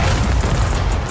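Explosions from an animated fight between Bakugo and Reze rumble through the whole stretch as a loud, dense, low booming roar with no voices heard.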